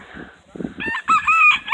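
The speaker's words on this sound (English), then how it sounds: "I'm guessing this one's a rooster." A rooster crows, its harmonic call rising and holding over the second half, preceded by softer clucking and fowl noises nearby.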